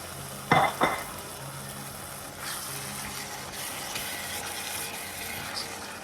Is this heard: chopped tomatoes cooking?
yes